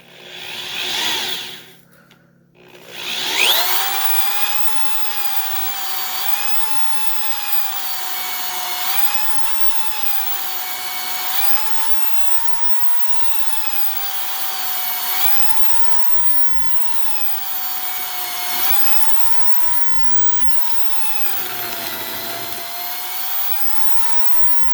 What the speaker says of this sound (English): I'm going to try to offset this hole saw just a bit so I can certainly hit the screw